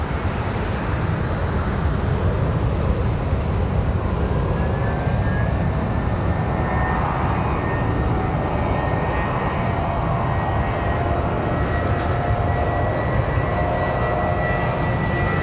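A Spirit Airlines airliner departing Raleigh-Durham International roars continuously, a loud, dense jet rumble with a thin rising whine, unbroken and without voices.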